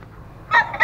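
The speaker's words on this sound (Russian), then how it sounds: "а там гусь" A goose at a countryside holiday camp gives two short, loud nasal honks in quick succession, close by and with no talking over them.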